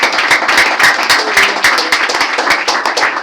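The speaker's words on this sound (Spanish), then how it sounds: "Denle un aplauso a Dios" A church congregation claps together in a fast, even rhythm during a sermon, loud and close with sharp, regular hand strikes and no talking over it.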